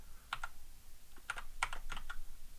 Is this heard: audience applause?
no